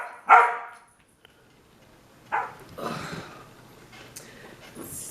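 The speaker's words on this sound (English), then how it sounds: "they just kind of go crazy and bark at each other" Pet dogs bark at each other indoors with a sharp, loud first bark, then scattered yips and barks in short bursts separated by quiet gaps.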